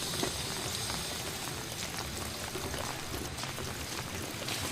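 A constant broadband rush of floodwater, dense and steady throughout with no pauses, with no voices.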